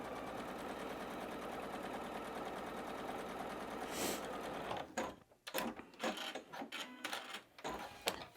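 A sewing machine stitching a seam on a fabric quilt block, a close, steady mechanical whir for several seconds before it stops and gives way to scattered handling clicks and rustles.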